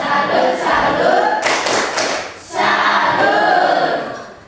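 A class of students performs a rhythmic "tepuk salut" clapping chant, a loud, close burst of patterned claps and group voices that pauses briefly before resuming.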